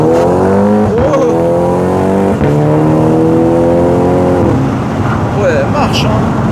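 A sports car engine accelerates in first gear, loud and close. The revs climb, break at a gear change, then climb again with a deep, rough tone. People talk over it near the end.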